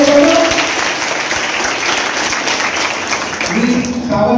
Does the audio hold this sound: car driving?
no